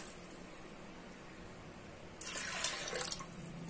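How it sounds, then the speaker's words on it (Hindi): Water pours into a pressure cooker holding washed lentils in a home kitchen, a steady splashing stream that starts partway through after quiet background and runs to the end, close and moderately loud. "और इसमें हम पानी ऐड करेंगे।"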